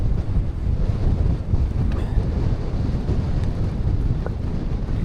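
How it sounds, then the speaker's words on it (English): Strong, relentless wind on a mountain ridge buffets the microphone, a loud continuous low rumble and roar with no letup. "That wind's not let up."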